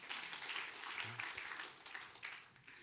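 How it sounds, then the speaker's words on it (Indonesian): A church congregation applauds during a sermon, a soft and fairly distant wash of clapping that holds steady, then thins out toward the end. "Berikan tepuk tangan bagi Tuhan."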